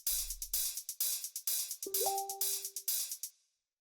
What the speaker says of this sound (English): The next thing that we have here are these hi-hats